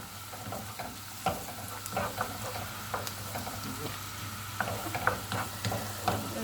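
Onions sauté in a pot for red lentil soup, a low continuous sizzle with frequent light scrapes and taps of stirring, fairly quiet and close.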